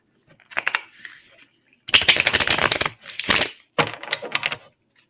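A deck of tarot cards being shuffled and drawn during a reading, heard as several bursts of crisp papery riffling and snapping with short pauses between them, close and fairly loud.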